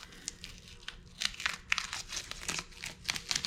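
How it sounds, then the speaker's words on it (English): Masking tape peeled off a freshly spray-painted wheel: close, crinkly tearing and crumpling in irregular short bursts, fairly quiet. "I'm gonna pull this tape off"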